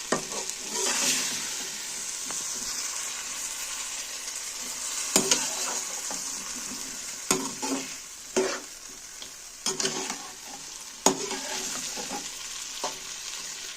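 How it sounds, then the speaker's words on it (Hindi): Potatoes with cabbage sizzle steadily as they fry in mustard oil, with periodic louder scrapes and clanks of a spoon stirring the pan, close and without talking. "अब इसमें मैं डालूँगी आलू।"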